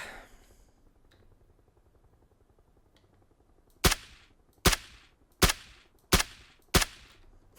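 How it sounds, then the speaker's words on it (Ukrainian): Five sharp suppressed gunshots from a silenced weapon in PUBG, fired at a steady pace about once every 0.7 seconds after a stretch of quiet background, each with a short bright crack and quick decay. "коли глушник є, стріляти з нього"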